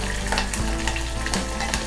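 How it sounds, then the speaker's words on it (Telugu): Green chillies, ginger and onion pieces fry in hot oil for ragi upma, a steady close sizzle with faint stirring scrapes throughout the short stretch, no voice present. "అప్పుడు మనం ఉల్లిపాయ ముక్కలు వేసి వేయించుకుందాము"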